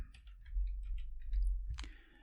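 Quiet, close keyboard clicks of typing on a computer: a short run of light, irregular keystrokes over faint low hum, ending with one sharper key press.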